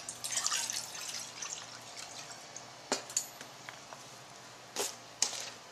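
Water poured from a bowl into a camping cooking pot makes a soft splashing trickle early on, followed by quieter scattered drips and a few sharp drops.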